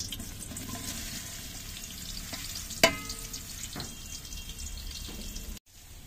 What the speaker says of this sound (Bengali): সাদা তেলে কোঁচানো পেঁয়াজ দিয়ে দেবো ব্যারিস্তা করার জন্য